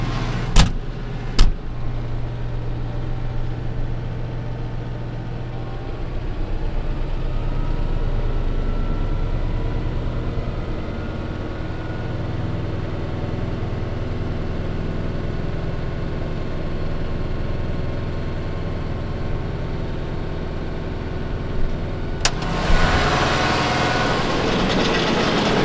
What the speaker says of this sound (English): At 800 RPMs now on the PTO. We can rev up until 1200, so let's do that.